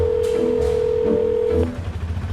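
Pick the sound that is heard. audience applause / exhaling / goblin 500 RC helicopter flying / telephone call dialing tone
telephone call dialing tone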